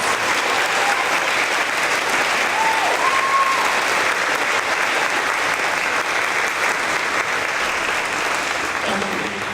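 A crowd at a fifth-grade school promotion ceremony applauds continuously and loudly for nearly ten seconds, a thick, even roar of clapping with a faint voice briefly audible underneath.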